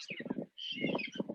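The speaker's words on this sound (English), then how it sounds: "The birds that you see there and can hear are Carnaby's cockatoo." Carnaby's cockatoos call near a house front, giving two bursts of harsh, wavering, moderately distant cries separated by a short gap, with no talking.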